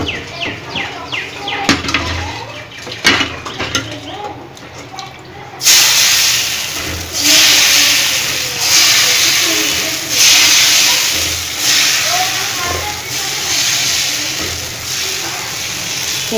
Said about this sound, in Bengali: এইভাবে আমি সব পিঠাই ভেজে নেব।